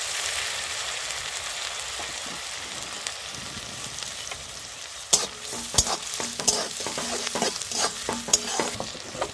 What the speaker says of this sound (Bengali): তেলে দিয়ে দেবো পেঁয়াজ বাটা, দিয়ে দেবো পেঁয়াজ কুচি,